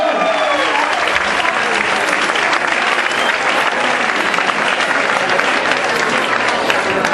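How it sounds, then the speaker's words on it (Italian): Steady, dense applause from a crowd of many hands at a Christmas Zumba fitness event, loud and continuous throughout with no pauses, like an audience clapping together in a hall. "io farei anche un applauso all'unico uomo che sei in mezzo"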